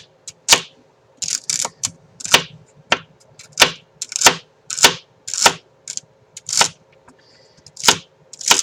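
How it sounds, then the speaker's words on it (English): A knife slices celery thinly on a cutting board in quick, close, sharp taps, roughly twenty cuts in uneven bursts with brief pauses, and no one speaks. "So I'm just going to chop those up. And then I'm going to cut these very thinly,"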